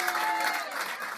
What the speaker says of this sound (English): Give him some applause, please